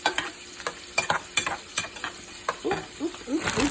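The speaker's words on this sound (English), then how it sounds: "I just stir it up." Mac and cheese stirred in a pot, a spoon scraping and clacking in an uneven run of short strokes close by, with a faint sizzle underneath and no talk.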